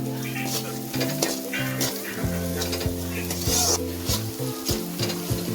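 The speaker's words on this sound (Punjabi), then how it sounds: "ਹੁਣ ਅਸੀਂ ਕਰਦੇ ਆ ਜੀ ਇਹਨੂੰ ਮਿਕਸ" Salt and turmeric are stirred as they fry in a pan for homemade aloo gobi, giving a steady sizzle broken by repeated scraping and clinking strokes of a spoon against the pan.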